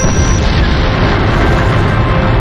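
A missile blows up in a film scene, a loud, sustained roaring explosion rumble that fills the whole stretch with heavy low boom and broadband blast noise.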